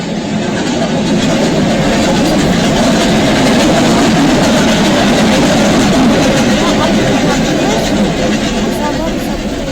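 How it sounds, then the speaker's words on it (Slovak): A train rolls past a railway crossing in a loud, steady rumble that fills the whole span without a break, with faint voices in the background. "ide vlak"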